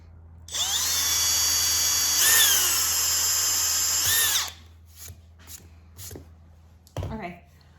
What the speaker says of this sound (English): I'm going to go ahead and drill that out with an 1/8 inch drill bit